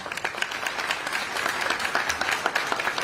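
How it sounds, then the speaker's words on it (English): Audience at a Republican attorney general debate in Alabama applauds the people asking questions, a sustained, even round of clapping without talk. "Give a round of applause for the folks asking questions."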